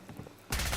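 Gunfire in the video game Fallout 4 bursts in abruptly halfway through, a loud dense volley of shots following a quieter stretch.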